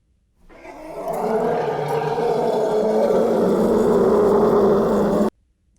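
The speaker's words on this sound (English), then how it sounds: "Elephant." An elephant calls with a long, loud, sustained blare lasting about five seconds, steady and close with no other sounds around it.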